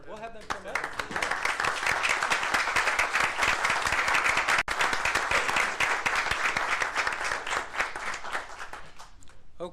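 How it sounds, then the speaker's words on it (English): A crowd applauds steadily for several seconds at a county commission meeting, dense clapping filling the room with a few cheers mixed in, then tapering off at the end. "If we could give them a round of applause."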